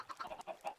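Chickens on a Minecraft chicken farm cluck softly in a quick run of four or five short, clipped calls, faint and alone.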